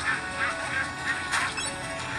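Ducks quack repeatedly in the video game Legend of Brofist, a run of rhythmic, nasal calls at moderate loudness over a busy game background.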